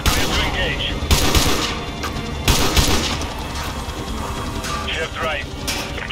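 Sniper rifle shots crack in the Call of Duty Modern Warfare 2 Remastered Gulag mission, a few loud reports over a dense, constant battlefield din, with radio voices talking.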